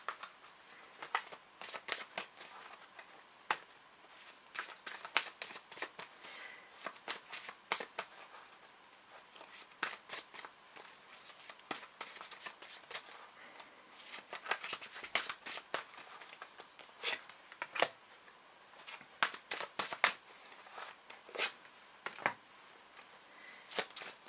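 Tarot cards being shuffled and handled during a reading, a steady run of soft papery riffles and crisp card snaps, close and fairly quiet, with no talking.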